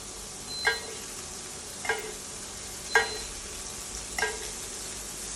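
Lamb pieces frying in olive oil sizzle steadily in a pan, with four distinct scraping stirs as the meat is turned, close and fairly quiet with no talking.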